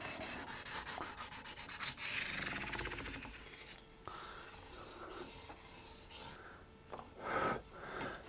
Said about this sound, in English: I'll do a follow-up with some 600 grit sandpaper.